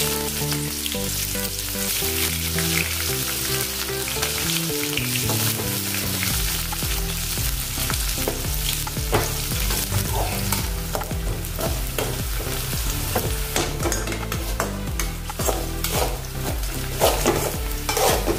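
Large-sliced onions fry in hot oil with cumin and bay leaves, producing a loud, steady sizzle and crackle throughout, with a faint low tonal hum early on and frequent sharp spattering pops.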